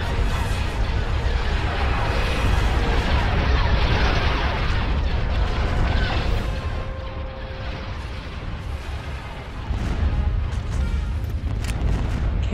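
Cannon fire from space units in Star Wars: Forces of Corruption: repeated booming blasts layered over a dense, roaring battle rumble, heaviest early and easing slightly before another surge, with a brief tonal hum partway through.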